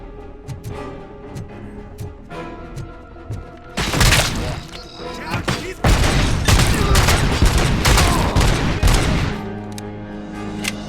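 Gunfire erupts in the RoboCop: Rogue City video game, a dense, loud volley of shots and bursts that peaks midway and blends with a game soundtrack and effects.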